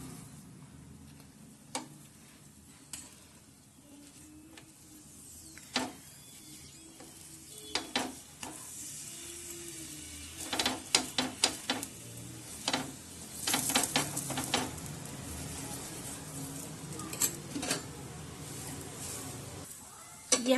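Mini parathas brushed with ghee sizzle quietly on a hot tawa, a steady soft fry broken by scattered clicks and clatters of utensils, with no talk.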